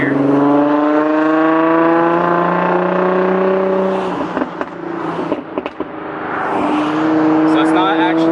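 Nissan 350Z/G35 sports car with its exhaust rumbling at a steady drone, then a few brief crackling pops as the gas is let off before the engine tone rises again, fairly close and loud.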